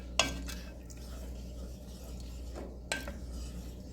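A spoon stirs homemade potato bacon soup in a pot during a slow cook, with two sharp scraping knocks against the pot separated by a long quiet stretch of soft rubbing.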